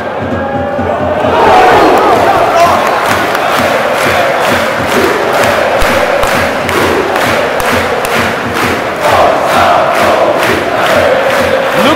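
A football stadium crowd at IFK Göteborg versus Hammarby erupts into a loud, sustained roar of cheering and chanting, with rhythmic clapping or stamping pulsing through the din.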